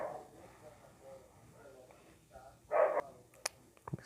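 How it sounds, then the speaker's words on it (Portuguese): Several short dog barks, loud and fairly close, come near the end, following quieter talk and background noise. "Começou a já latir e tudo."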